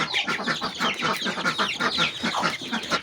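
A village hen clucks and pecks while feeding alongside her chicks, making a steady run of close, rhythmic clucks with no talking.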